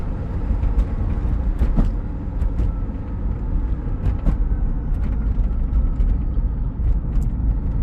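A 2010 Tesla Roadster Sport electric car driving with light acceleration, a steady road and tire rumble with faint motor whine and occasional sharp clicks and knocks.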